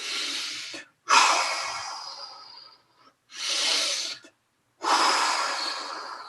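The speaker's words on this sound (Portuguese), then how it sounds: "Isso é uma respiração profunda." A person demonstrates deep breathing, with long, loud breaths in and out separated by short pauses, close and alone without talk.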